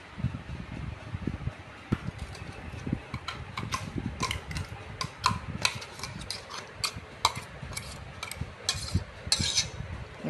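Spoon scraping coarsely ground wild-fruit chutney (karonda) out of a steel mixer jar into a bowl, a string of clinks and scrapes with a low fan-like hum running underneath.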